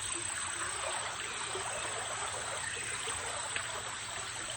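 Soft, steady creek water flows with a gentle trickle, continuous and fairly distant, with no other sounds standing out.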